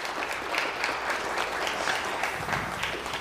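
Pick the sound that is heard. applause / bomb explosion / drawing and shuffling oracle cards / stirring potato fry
applause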